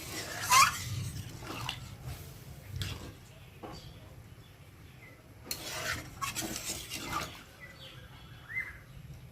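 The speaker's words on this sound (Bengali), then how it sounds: "জল দিয়ে একটু ভালো করে নেড়ে চেড়ে দিলাম" A spoon scrapes and stirs through a pot of meat curry with potatoes just after water is added, giving soft intermittent rasping strokes, fairly faint and close, with brief quiet gaps.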